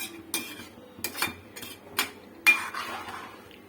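A metal spoon stirs Chettinad chicken gravy in a pan, making a series of distinct clinks and scrapes against the metal. The strokes come every half second or so, close by and fairly quiet.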